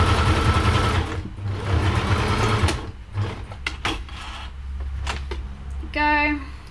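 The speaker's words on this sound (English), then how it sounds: "Now I'm just going to sew down the middle." A sewing machine stitches felt for the tongue of a macaw fursuit in quick, close bursts of rapid needle chatter with short pauses between runs, and some faint background noise.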